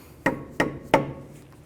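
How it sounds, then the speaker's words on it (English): Three sharp metallic taps land about a third of a second apart as a hammer knocks a stuck wheel bearing cap on a 1999–2004 Nissan Pathfinder front hub, each hit close and clear with a short ring. "If it's stuck on there, just use a hammer."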